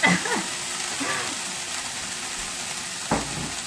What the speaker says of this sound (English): So add your greens. Don't be afraid of it popping.